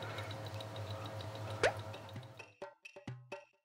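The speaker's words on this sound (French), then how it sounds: "c'est possible que de l'essence coule à nouveau. Et c'est le cas." Gasoline dripping from a removed fuel filter on a BMW 5 Series E39, a steady patter of drips and then a few distinct, close plops as the flow slows, with no talk.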